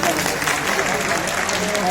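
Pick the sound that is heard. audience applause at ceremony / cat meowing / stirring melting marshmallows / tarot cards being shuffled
audience applause at ceremony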